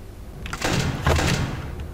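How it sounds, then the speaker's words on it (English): A door in the horror video game Five Nights at Freddy's Ultimate Custom Night makes two or three mechanical sliding, clattering bursts in quick succession, close and moderately loud, with no talking. "I don't know which door that was"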